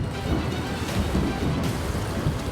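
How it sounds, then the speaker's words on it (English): Thunder from a lightning storm over Sydney Harbour rolls as a loud, continuous low rumble mixed with heavy rain noise, with no talk. "That was lightning."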